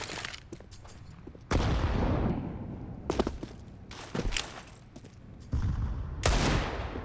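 Gunfire in Counter-Strike: Global Offensive on the Mirage map during a professional match, with several sharp shots and bursts spread across a few seconds and quieter movement sounds in between.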